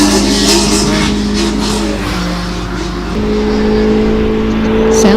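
Subaru BRZ engine revving hard at a lakeside hillclimb, a loud, steady close engine drone held for about five seconds, pitch stepping up between gear changes, with no talk over it.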